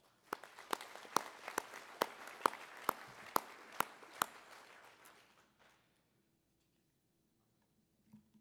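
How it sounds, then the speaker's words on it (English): Sparse, quiet clapping at the Shingo Institute Awards Gala in Atlanta, Georgia. A few distinct, evenly spaced claps ring out for several seconds, then fade to near silence. "So please give them a round of applause."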